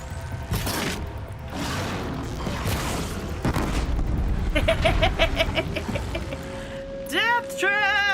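Bomb explosions in the Horizon Zero Dawn game boom in a couple of sharp bursts, followed by chirping mechanical machine calls and rising electronic tones; a voice talks over part of it.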